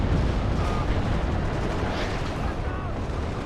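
An M2A2's autocannon in WARNO pounds in a dense, steady barrage of heavy booms blending with battlefield rumble, loud and continuous throughout with faint voice underneath.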